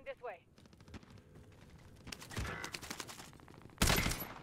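Rapid bursts of Bullfrog submachine gun fire in Call of Duty, crackling in quick strings with a sharper loud burst near the end, mixed under a person talking.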